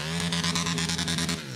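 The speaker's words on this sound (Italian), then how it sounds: "Che sentire il motore così è una sofferenza" A car engine idles and revs steadily at a race starting grid, a close, continuous rumbling drone with a pulsing, slightly rising tone and no talk over it.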